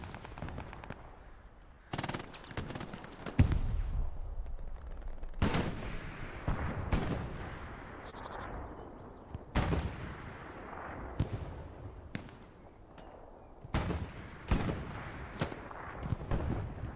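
Hip-fired machine gun bursts in Hell Let Loose, a WWII shooter, on the Driel brick factory map, rattle out in repeated sharp volleys with pauses between, mixed with distant gunfire and booms.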